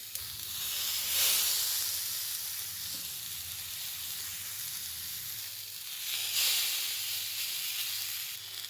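Pomfret fish, uncoated by rice flour or semolina, sizzles steadily in hot oil, a continuous close hiss that swells twice with brief louder bursts.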